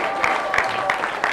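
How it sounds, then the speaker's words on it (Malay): Audience clapping at a parents' talk during a school prayer and Yasin reading programme, with several louder bursts of applause over a background of crowd murmur. "Tepuk semangat sikit."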